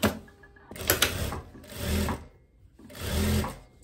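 A sewing machine stitches the curved back facing of a garment in three bursts of rapid mechanical whirring, separated by short quiet pauses and faint handling clicks.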